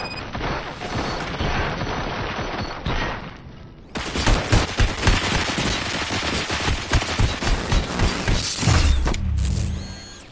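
Loud, sustained gunfire from RoboCop: Rogue City, with a rapid stream of shots and mechanical clatter running unbroken for several seconds after a quieter opening.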